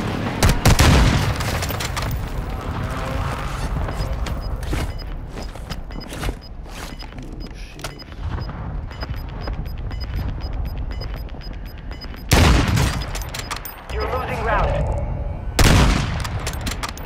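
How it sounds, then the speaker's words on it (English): Airstrike explosions and bursts of gunfire in Call of Duty: Warzone 2.0, with loud booms near the start and again toward the end, rapid shots and mechanical rattles in between, and the clip rising and falling in intensity. "Hostile airstrike near your location."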